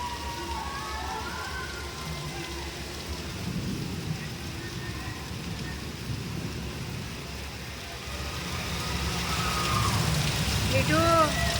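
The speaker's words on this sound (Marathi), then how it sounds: "आज नेमका पाऊस आलाय भरपूर मोठा बघा खूप खूप मोठा पाऊस आलाय आहे" Heavy monsoon rain pours down on a garba festival night, a dense steady roar that swells louder near the end, with voices faintly audible through the downpour.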